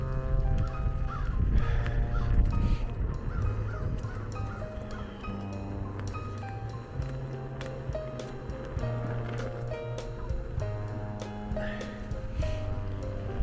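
Crows caw repeatedly outdoors during an electric unicycle ride on an Inmotion V, harsh calls at varying distances over a constant droning hum, with no one talking.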